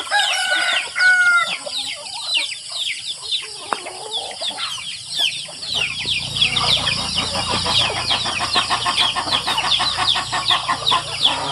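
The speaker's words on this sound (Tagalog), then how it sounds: "Ating manok, di na natin mabilang yung ilan." Chickens on a farm cluck and squawk constantly close by, with a rooster-like call early on and a low engine rumble starting midway.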